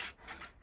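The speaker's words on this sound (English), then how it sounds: "Fold it down with my fingers and burnish." Fingers rub and burnish folded chipboard in a faint, brief dry scrape with a couple of soft swipes and no voices.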